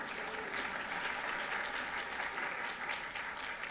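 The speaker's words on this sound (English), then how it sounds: "We can do a round of applause." A conference audience gives a sustained round of applause at a climate and data-center event, even, continuous clapping heard from a distance at low volume, with no talk over it.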